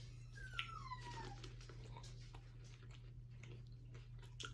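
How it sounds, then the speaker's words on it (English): A dog during a seafood meal at home, with a short rising whine or whimper near the start. Chewing and soft mealtime noises continue underneath over a steady low hum. "Do y'all hear his dog?"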